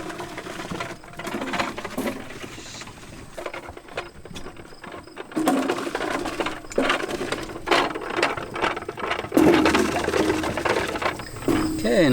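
Apples are ground for juice in a hand-cranked grinder outdoors in Maine, giving uneven rattling and crunching churns that come in bursts and grow louder toward the end, with some faint voices.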